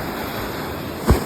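Sea waves wash against the shore in a continuous, windy hiss, with one brief low thump of water near the end and no talk.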